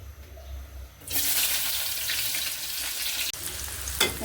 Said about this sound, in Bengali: তো আমি তেল দিয়ে দিছি এখন পেঁয়াজটা ছেড়ে দিই